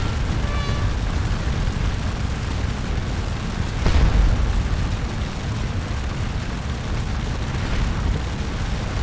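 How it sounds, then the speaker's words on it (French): Cannon and artillery fire on a Napoleonic Waterloo battlefield in a strategy game, a single deep boom near the middle standing out from a steady low rumbling background. "on a de l'artillerie ici."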